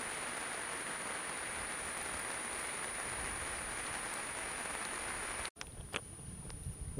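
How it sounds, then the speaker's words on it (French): Rain falls steadily on a boat at sea, a dense even hiss of drops that cuts off abruptly near the end, followed by scattered nearer patters and knocks. "C'est beau la pluie en mer."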